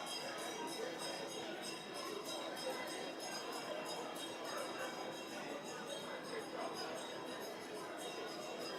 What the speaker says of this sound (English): A division having been called, the bells will be rung for 2 minutes.